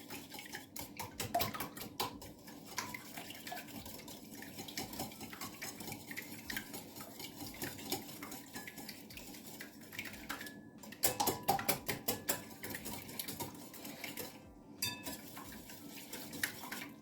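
Eggs being whisked in a bowl with a metal whisk for a mascarpone orange cake, a steady rapid clatter of wires against the bowl that keeps up almost throughout, with brief pauses.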